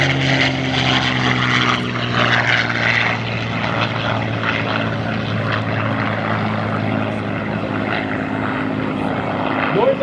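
A P-51 Mustang propeller airplane flies aerobatics at an airshow, its piston engine drone steady and loud with a low, sustained harmonic hum throughout.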